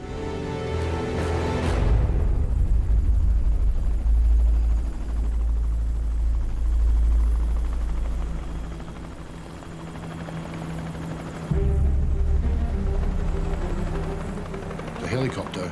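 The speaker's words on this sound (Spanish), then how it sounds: "El helicóptero de búsqueda pasa volando casi por encima de ellos." A search helicopter's heavy rotor thump roars close overhead in the desert, swelling loud then easing briefly before surging again, with faint voices underneath.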